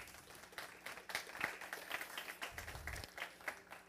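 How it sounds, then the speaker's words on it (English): A lecture audience applauds in a short, fairly sparse burst of clapping, moderately faint and slightly uneven, with no talk over it. "I would like you to give them an applause"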